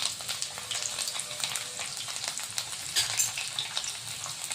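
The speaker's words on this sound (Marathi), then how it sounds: "तेल गरम झालेलं आहे। आता यामध्ये कळ्या टाकलेल्या आहेत।" Peeled garlic cloves frying in hot oil in a kadai, giving a close, continuous crackling sizzle with small pops and occasional stirring, and no talking.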